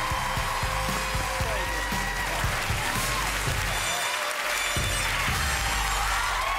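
A live talent-show audience applauds and cheers for a contestant. Dense clapping and crowd noise fill the space continuously, with band music and a voice faintly mixed underneath.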